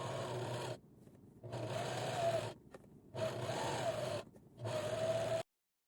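A sewing machine stitches quilt squares together for a rag quilt sweatshirt, running in four steady bursts of close, even mechanical whirring with brief quiet pauses between them.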